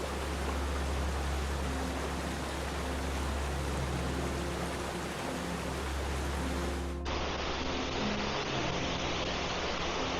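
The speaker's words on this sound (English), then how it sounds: "We have made it to Dry Falls, a thunderous waterfall with a unique feature." Dry Falls waterfall in the North Carolina mountains roars as a dense, constant rushing wash of water, loud and close, steady throughout with a slight change in tone partway.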